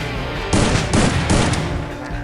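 Three quick bursts of test gunfire in the mobile shooter Free Fire, each about a third of a second, loud and close over a steady game background, with no talk.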